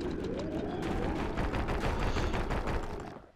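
Rapid gunfire in the video game Bastion, a dense burst of repeated shots sustained for about three seconds before fading out, with no talking.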